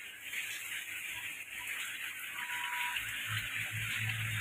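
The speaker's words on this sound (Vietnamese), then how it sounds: "mưa này rất lớn, tại hiện nay là nước còn đang chảy đây." Rainwater runs and gushes during a heavy downpour in Thái Bình, Vietnam. The flow is a soft, steady, fairly faint wash with a few low splashes near the end.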